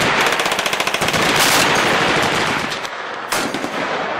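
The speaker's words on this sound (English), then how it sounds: "how long have you been shooting the 50 cal?" A .50 caliber machine gun fires at a West Point, Kentucky shooting range in fast, heavy bursts of close, loud shots, with rapid rhythmic reports early, a dense roar, a brief pause, then another burst.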